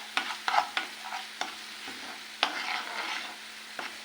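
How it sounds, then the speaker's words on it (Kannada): Homemade masala paste fries in oil with a moderate sizzle, broken up by several sharp stirring scrapes and spoon knocks spaced irregularly across the few seconds. "ಈ ಥರ ಪೇಸ್ಟನ್ನು ಒಳ್ಳೆ ಆಯಿಲಲ್ಲಿ ಫ್ರೈ ಮಾಡಿಕೊಳ್ಳಿ"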